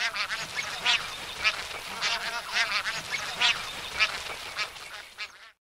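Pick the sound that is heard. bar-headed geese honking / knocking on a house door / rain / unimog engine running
bar-headed geese honking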